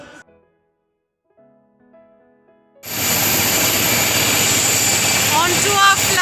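Broadband aircraft cabin roar on a flight to Goa, starting abruptly after a quiet stretch with faint tones and staying loud and steady to the end, with brief whistling sweeps near the close.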